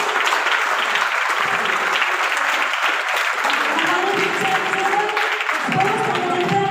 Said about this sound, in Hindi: जोरदार तालियों से सभी स्वागत करेंगे।